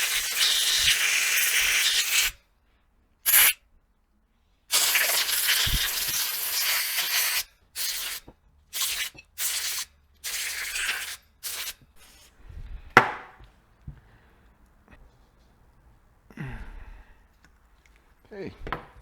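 Compressed air blasts out a freshly washed rear brake caliper from a Kawasaki KLR 650: loud, close hissing bursts, several long ones at first, then shorter spurts, with quieter talk toward the end.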